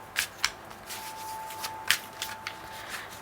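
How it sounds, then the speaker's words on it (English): Tarot cards shuffled by hand, a run of quick crisp riffling and slapping bursts, close and fairly soft, with a steady faint tone underneath. "Let's pull some tarot cards for you."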